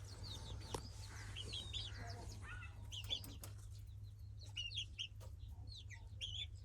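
Aseel chickens in a small outdoor mini zoo give soft, scattered clucks and chirps over a low steady hum, with a few faint thumps and wing rustles.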